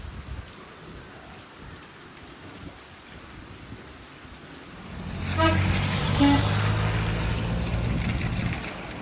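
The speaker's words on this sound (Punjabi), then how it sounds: "ਬਾਰਿਸ਼ ਨਹੀਂ ਰੁਕਦੀ, ਕਹਿੰਦੇ 4 ਦਿਨ ਹੋ ਗਏ ਬਾਰਿਸ਼ ਲਗਾਤਾਰ ਪੈ ਰਹੀ ਹੈ, ਰੁਕਦੀ ਨਹੀਂ।" Heavy rain falls steadily in Murree after days of continuous downpour, a dense hiss that swells louder and closer midway, with a faint tonal honk briefly rising above it.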